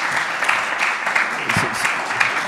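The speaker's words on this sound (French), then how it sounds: "vous pouvez l'applaudir, je pense." Applause from a conference audience at a French cultural colloquium, a steady dense patter of many hands clapping at moderate distance, continuous throughout with no talk over it.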